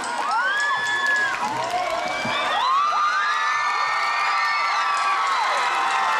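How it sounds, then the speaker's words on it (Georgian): A crowd at a bull-catching contest cheers loudly and steadily, with high whoops and shouted calls, including children's voices, rising and falling over a constant roar. Clapping is hard to pick out beneath the cheering. "კიდევ მეტი აპლოდისმენტები გავაგონო"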